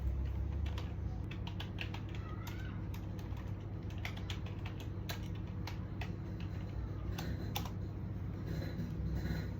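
Keys tapped in an irregular run while a command is entered on a computer keyboard, clear clicks over a steady low hum from a nearby machine.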